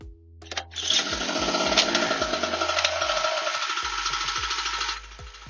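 Hyundai HHY960A petrol generator at a caravan campsite, starting up and running hard at full throttle with a loud, buzzing, rattling engine drone that holds steady and then cuts off near the end.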